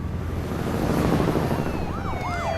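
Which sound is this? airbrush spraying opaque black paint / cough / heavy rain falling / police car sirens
police car sirens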